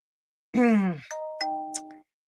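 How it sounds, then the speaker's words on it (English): A brief voice is followed by an electronic doorbell chiming two tones, clear and close in an otherwise quiet room. "Excuse the little ding dings. That's my doorbell."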